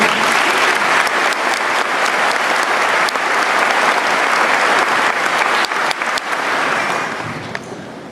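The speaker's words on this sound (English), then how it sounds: "If we could give her a round of applause." A large audience at a high school graduation ceremony breaks into sustained, loud applause, dense clapping that stays full for several seconds before tapering off at the end.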